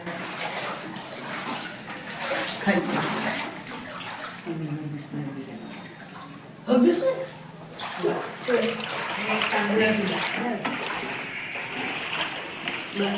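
Floodwater splashes and sloshes through a flooded house kitchen after extreme rainfall, with bursts of movement and trickling, while voices talk over it at moderate volume.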